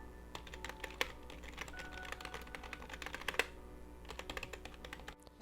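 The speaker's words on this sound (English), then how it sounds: "this is the little sound demo of these keys." Keys on an IMICRO computer keyboard clatter in quick, uneven bursts of close, crisp clicks, with a few louder strikes standing out against a quiet background.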